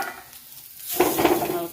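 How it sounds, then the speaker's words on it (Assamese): Pitha sizzling as it fries in hot oil in a home kitchen, quiet at first and then swelling into a steady, close crackle. "এয়া পিঠা ভাজি কৰি আছোঁ"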